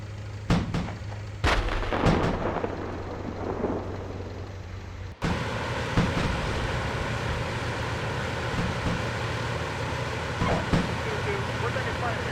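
Gunfire and artillery blasts in a military video game: a few sharp, loud reports early on over a steady low rumble, then a continuous dense roar of distant combat, with people talking throughout.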